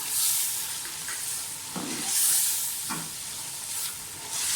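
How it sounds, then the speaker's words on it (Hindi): Vegetables frying in a pot with coriander for a vegetable biryani, a quiet hissing sizzle broken by a few stirring scrapes, close and faint with no talking. "सब्जियाँ हमारी अच्छी तरह से भून गई हैं। धनिया डाल दें"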